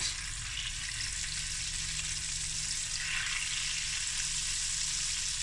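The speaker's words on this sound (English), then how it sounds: "I'm going to add my butter as well." Butter sizzling in a frying pan alongside honey-glazed ox tongue, a steady close hiss and crackle of frying that holds evenly and loudly throughout without any voices.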